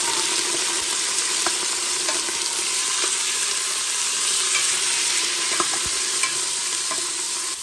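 Meat stirred and frying in a hot pot for pork with three-greens rice, a steady loud sizzle with occasional scraping clicks of the spoon, no voices.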